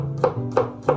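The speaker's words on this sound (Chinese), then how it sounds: "然后再改刀剁成蒜末" A knife mincing sliced garlic on a board strikes three evenly spaced, crisp chops in a quick steady rhythm.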